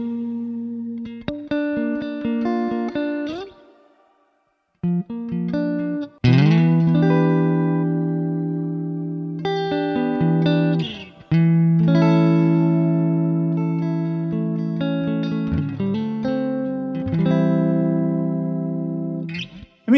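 Clean funk-style electric guitar run through a Neural DSP Archetype Cory Wong plugin with shimmer reverb, chords and single notes ringing loud and close with long sustained tails and bright upper harmonics, a short gap near the start.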